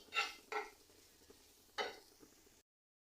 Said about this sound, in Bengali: নারিকেলটা ঘিয়ের উপরে একটু ভেজে নিচ্ছি